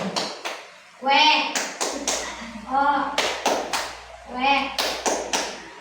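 Rhythmic group clapping and tapping in repeated bursts, with children's voices chanting along in a lively call-and-response pattern, in a classroom clapping game.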